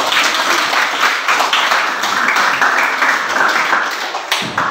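A group claps together after a classroom presentation, loud close-up applause with distinct individual claps in an uneven rhythm, fading slightly toward the end.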